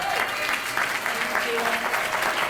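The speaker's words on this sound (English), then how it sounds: "Give her a huge round of applause." Sustained audience applause at a corporate event, a dense crowd clapping steadily at a fairly loud level throughout.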